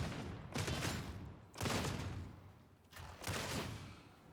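Boltgun fire in the video game Warhammer 40K: Darktide, three heavy booming shots spaced over a few seconds, each with a long rolling tail, loud and alone.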